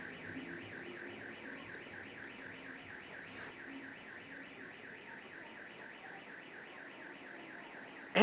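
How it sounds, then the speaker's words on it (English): A car alarm wails in a steady rising-and-falling cycle, somewhat distant, repeating continuously with a sudden loud bump at the very end. "A car alarm just went off."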